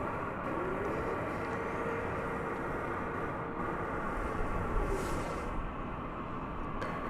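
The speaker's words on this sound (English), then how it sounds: "American Flight 35, a 7879 Dreamliner cleared for takeoff." A Boeing 787-9 Dreamliner takes off at DFW Airport at night, a steady, distant jet roar heard from afar, with a broad rumble that swells slightly toward the middle.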